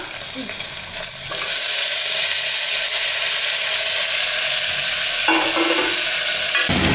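Tomatoes sautéing for chow chow sambar, a loud close sizzle that swells after the first second and holds steady, broken by a few scrapes of a spatula stirring the pan.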